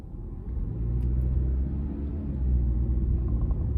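A car idles and then pulls away nearby with a deep, steady engine rumble. The rumble builds slightly louder toward the end, and no voices are heard.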